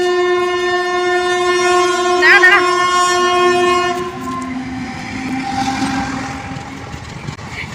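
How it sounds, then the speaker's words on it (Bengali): A train approaches a railway crossing, sounding a long, loud, steady horn blast before rumbling past with rolling wheel noise that fades into the background. "গাড়ি আসছে, গাড়ি না ট্রেন আসছে। হ্যাঁ ট্রেন।"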